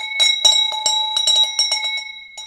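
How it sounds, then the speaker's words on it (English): A ringing bell struck repeatedly in quick bursts, bright sustained tones layered and decaying between hits, close and loud with no talk. "Let me give you a bell."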